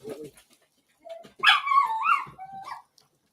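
A dog barks and yips outdoors at a griddle breakfast cook, a short bark early, then a louder run of high yelping calls, moderately near with no talk over it.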